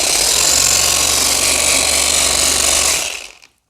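A power sander with switchable motion, fitted with 80-grit paper, runs loud and close with a coarse, buzzing roar for about three seconds before it cuts off and falls quiet.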